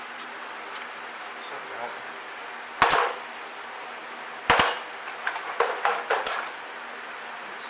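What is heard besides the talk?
prying off a Ford Ranger hub dust cap with a flathead screwdriver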